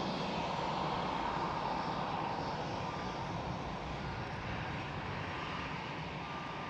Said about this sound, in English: the Cathay Pacific Airbus A350 taxiing towards the lineup point of runway 18 left